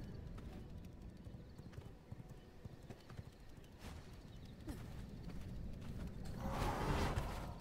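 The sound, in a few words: horse hooves clip-clopping in the video game V Rising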